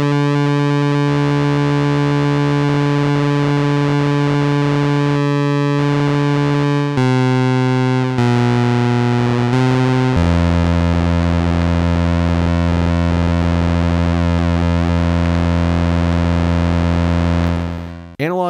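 Loud, harsh Analogue Solutions Nyborg 12 synthesizer tones hold and abruptly jump between pitches, buzzing and warbling with gritty oscillator modulation, one sustained electronic noise after another.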